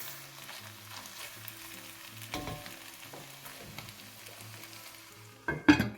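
Chicken-and-chorizo jambalaya sausage browning in a pot, a soft, steady low sizzle, quiet and gentle, with a louder clatter and a stir or lid knock right at the end; no one talks.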